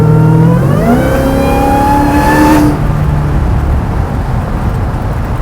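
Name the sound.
900 hp Hellcat-powered 1970 Plymouth Superbird accelerating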